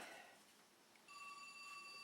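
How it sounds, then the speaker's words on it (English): A telephone rings faintly in a workshop where a boat is being built, a thin electronic tone entering after a quiet moment and holding steadily to the end. "Oh, we got a phone call."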